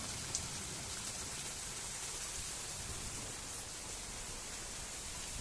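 Heavy rain pours down in a dense, constant hiss that fills the air, loud and unbroken, with no voices.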